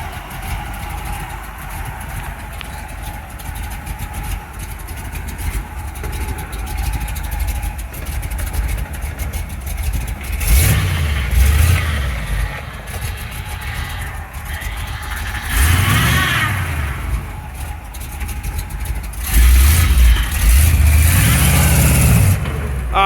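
A 1975 Chevrolet C10 pickup truck engine idles and then revs up hard in several bursts, loud and close from inside the cab, with a steady rumble between the surges.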